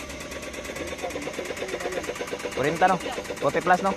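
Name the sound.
Suzuki DA64V van engine knocking and ticking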